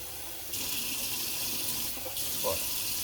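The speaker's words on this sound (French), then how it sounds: "on ouvre le robinet" Water runs from an opened tap into a small container while preparing nectar food, a steady hiss starting abruptly, briefly dipping, then resuming, moderately close with faint background sounds.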